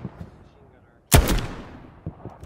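A single loud sniper rifle shot cracks out in a Hell Let Loose battle, sharp and booming with a long echoing tail, followed by faint distant gunfire.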